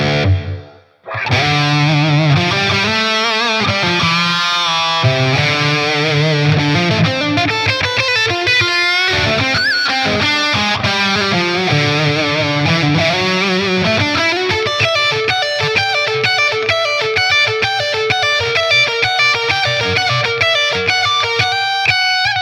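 Heavily distorted, saturated high-gain electric guitar from an Amalgam Audio capture on Tonex, with reverb added, playing a continuous loud lead line with sustained, detuned notes that ring on without pause.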